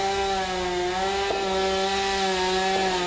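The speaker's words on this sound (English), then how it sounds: "You could hear the chainsaw going" A chainsaw runs steadily through fallen trees during tornado cleanup in Mattapoisett, a loud continuous droning whine held for about three seconds, with no talk over it.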